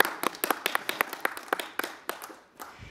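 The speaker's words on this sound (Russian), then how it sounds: "Альф, тебе вообще-то уже гости аплодируют" Guests at a dolphinarium show applaud close by, a loose patter of several pairs of hands clapping unevenly before thinning out and stopping near the end.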